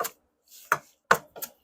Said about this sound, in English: So we're just going to chop this up a little bit.